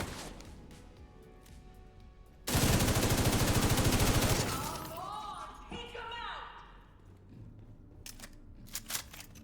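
Light machine gun in the video game The Division 2 fires one loud, continuous burst of nearly two seconds over game ambience, followed by fading chirpy effects and a few scattered clicks and impacts.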